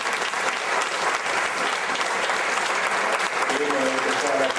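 An audience at a cultural club's 20th anniversary ceremony applauds, a dense, sustained clapping that fills the room from start to finish.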